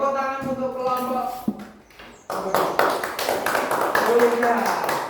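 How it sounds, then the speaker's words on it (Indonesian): A classroom of students breaks into clapping for a group after the group presents its work, a steady burst of hand claps that follows a brief tone and a pause. "Oke, tepuk tangan untuk kelompok"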